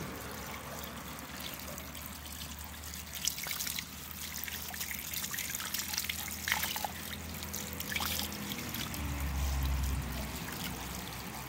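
Clear shallow river stream trickling and gurgling steadily over stones, close and continuous, with small splashes and a low rumble underneath, no talking.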